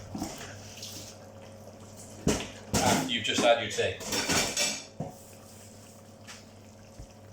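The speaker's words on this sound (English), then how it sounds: "I'm doing a lot of washing up" Dishes clatter and clink with splashing water in a sink for a few seconds, while a person talks over the noise.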